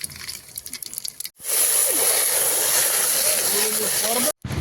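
A loud, continuous sizzling hiss bursts in after some clatter and runs for a few seconds as water hits a hot oiled pan for egg Maggi noodles, then cuts off abruptly.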